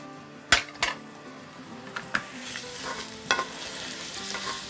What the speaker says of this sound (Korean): 마늘 향이 나도록 이렇게 조금만 볶다가